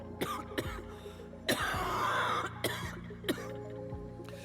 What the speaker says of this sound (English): He breaks into another cough and collapses to one knee.